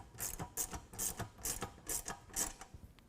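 A 10 mm wrench ratchets on the ladder bracket bolts of a Rugged Ridge rooftop tent on a 2022 Toyota Tundra, giving six or seven evenly spaced clicking pulls at close range with no talk.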